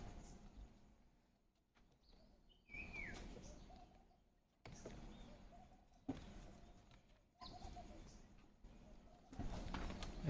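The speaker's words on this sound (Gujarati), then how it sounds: "સવારમાં પક્ષીનો કલબલાટ બહુ મજા આવે છે સાંભળવાની." Morning birdsong near a home where a cow is being fed, with a pigeon or dove cooing among other calls, moderately near and intermittent over a faint outdoor background.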